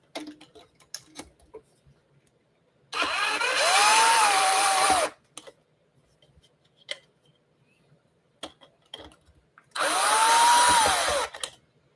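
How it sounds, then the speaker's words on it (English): A power drill runs in two steady bursts of about two seconds each while unscrewing a hopper, close and loud, separated by quiet clicks and light tapping. "We got our drill."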